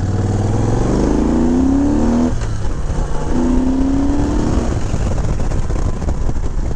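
A 2000 Moto Guzzi Jackal motorcycle engine revved hard twice close up, each rev climbing steeply in pitch before dropping back to a rough, throbbing idle, loud and steady throughout with no talk.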